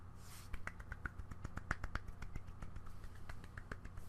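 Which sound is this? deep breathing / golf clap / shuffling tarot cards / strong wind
golf clap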